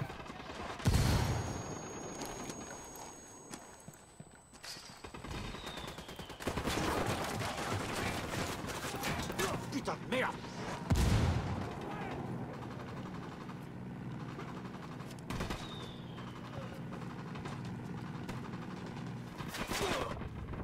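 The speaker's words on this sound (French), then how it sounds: "Mortier." Mortar blasts and bursts of gunfire in Ghost Recon Wildlands, repeated booming impacts and rattling shots spread across a long firefight, some near and loud, others more distant.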